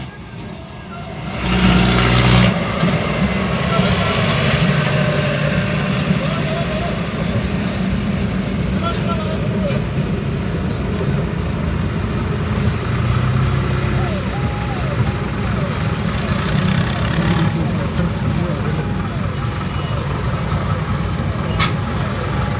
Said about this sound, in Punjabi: ਹਰ ਕੋਈ ਆਪਣਾ ਟਰੈਕਟਰ ਜਿਹਨੂੰ ਕਿ ਕਿਸਾਨਾਂ ਦਾ ਜਹਾਜ਼ ਵੀ ਕਿਹਾ ਜਾਂਦਾ ਹੈ ਪੂਰੀ ਤਿਆਰੀ ਦੇ ਨਾਲ ਆ ਰਿਹਾ ਹੈ